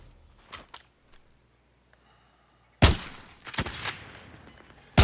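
Gunfire in Call of Duty: Vanguard, with a few faint isolated shots followed by a loud, close burst of rapid fire and several further sharp shots.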